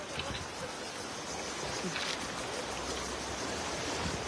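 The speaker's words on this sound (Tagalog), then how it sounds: "Ingat, malakas agos na po nga, idol eh" A strong river current rushes along during fishing, a loud, steady broadband roar of flowing water with no break from start to finish.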